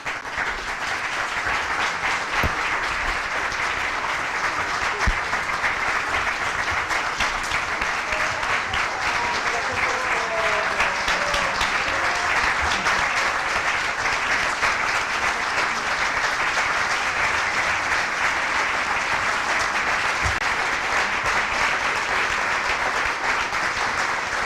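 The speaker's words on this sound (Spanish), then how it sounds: "Yo quiero que reservemos este bravo y este aplauso para dos personas excepcionales, Verónica y Lourdes." Sustained, dense audience applause and bravos at a concert-lecture on music and medicine, loud and steady for the whole stretch with no talk over it.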